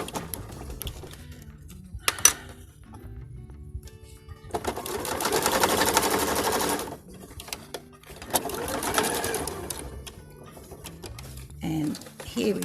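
A domestic sewing machine stitches across the thick seams of a fabric surgical cap in two loud, close bursts of rapid whirring, separated by quiet pauses with soft handling noises and a brief voice.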